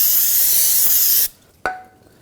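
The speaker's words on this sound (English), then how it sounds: "You just use a little brake parts cleaner" Brake parts cleaner hisses loudly in a steady spray onto the rear brake rotor of a 2007-2013 BMW 328i, cutting off abruptly and followed by a short metallic tap.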